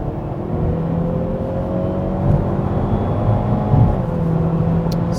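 A 2021 Hyundai Veloster N engine with 8-speed DCT in normal mode, driving at night, hums steadily at moderate revs, with a smooth drone and slight swells in pitch.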